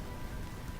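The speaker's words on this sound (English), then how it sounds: "so I put my own rain for you guys to hear" Steady rain sound played in the background, a dense even hiss of falling drops on a surface with no breaks, constant and fairly loud throughout, with no talking.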